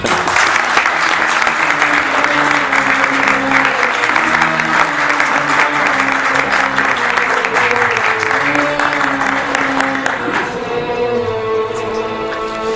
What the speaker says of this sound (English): join me in giving Mejdi Bولص a big round of applause